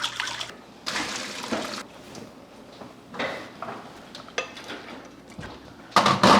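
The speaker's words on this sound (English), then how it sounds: "Our pasta is done, so we need to get that into the strainer." Cooked pasta for a pasta salad is tipped out of a pot into a strainer. Close, moderately loud bursts of splashing water and clattering cookware come in uneven waves, with no talking.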